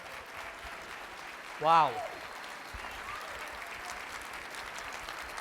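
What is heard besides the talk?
audience applause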